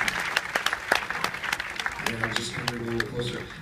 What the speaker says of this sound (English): Folks, let's give another round of applause.